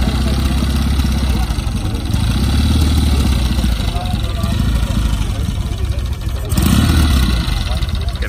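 A classic 1950s–60s Norton motorcycle idles low and steady at a vintage bike gathering, a continuous loud engine rumble with a slight lift near the end, while people talk over it.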